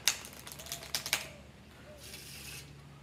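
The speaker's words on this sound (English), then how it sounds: "for the next trick, I would, again, mix up the cards." A deck of playing cards being shuffled during a magic trick: a quick run of crisp riffling snaps and clicks, then softer brushing swishes as the cards settle, close and fairly quiet.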